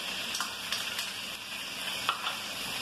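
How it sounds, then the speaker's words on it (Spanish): Chicken sautéing in a pan with chopped garlic added gives a steady, bright sizzle, with a few soft stirring scrapes and no voices. "el pollo ya está previamente sofreído por unos 3 minutos aproximadamente. Y le voy a agregar el ajo picado"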